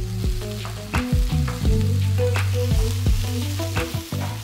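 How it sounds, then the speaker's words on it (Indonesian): Vegetables stir-fried in oil in a pan for spicy vegetable-stuffed tofu, a steady sizzle running through the whole stretch while tonal music with a plucked rhythm plays over it. "Baru kita masukin sayuran lainnya."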